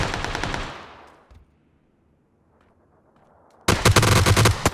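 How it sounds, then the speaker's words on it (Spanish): Close automatic gunfire in PUBG on the Vikendi map rattles in a rapid burst that fades out, followed by near silence, then a second loud burst of shots starts abruptly. "Alguien está disparando el jodido."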